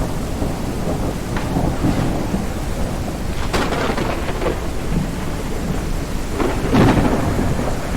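A video game thunderstorm with a steady roar of heavy rain. Several deep rolls of thunder swell and crackle through it, one near the middle and a louder one toward the end, with wind noise underneath.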